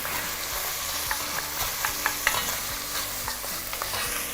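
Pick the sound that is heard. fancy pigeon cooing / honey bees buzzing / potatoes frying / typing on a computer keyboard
potatoes frying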